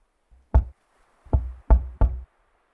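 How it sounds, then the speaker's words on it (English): A gentle knock on a wooden cabin door aboard a ship, one soft rap followed by three more in quick succession, close and dry with silence around them. "Following my gentle knock"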